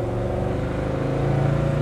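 A 1966 Chevrolet Chevelle engine runs steadily close by, a loud, even throbbing rumble with a slight rise in pitch near the end.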